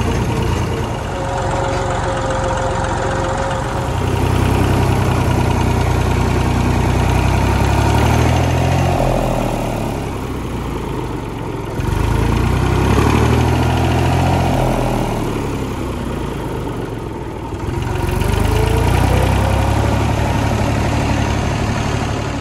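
Vintage Massey Ferguson 35 tractor with a three-cylinder engine idling steadily and close, a loud low throb with gentle swells in intensity and no speech over it.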